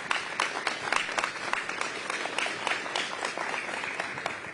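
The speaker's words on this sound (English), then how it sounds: "A round of applause for our friends at ATCO." Audience applause at a live event in Vancouver during the Invictus Games, steady dense clapping from a sizeable crowd throughout, moderately loud with no voices over it.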